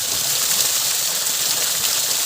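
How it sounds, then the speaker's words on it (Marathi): Steady, loud rush of falling water from a waterfall about 100 meters high, a broad hissing roar with no breaks, close by. "पहा धबधबा हा केवढा मोठा आहे"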